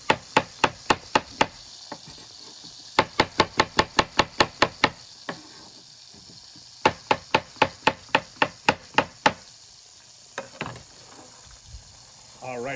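Cremini mushrooms are chopped on a board with crisp, evenly spaced knife taps in quick bursts separated by short pauses, close and clear with faint background sizzle.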